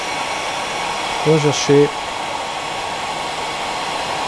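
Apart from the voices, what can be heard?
hair dryer blowing through a salmon fly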